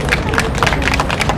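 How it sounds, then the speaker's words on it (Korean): Crowd at an outdoor political rally in Daegu clapping and cheering in a dense, steady wash of noise, loud and close, with no clear gaps. "여러분, 박수를 한번 모시겠습니다"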